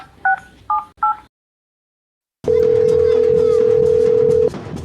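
Several short two-tone dialing beeps sound in quick succession, a pause of silence, then a long steady dial tone over a noisy background.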